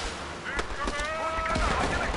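Mortar and gun fire in a Battle Islands Commanders video game, several sharp bursts and thuds scattered through a steady battle din, with someone talking over it.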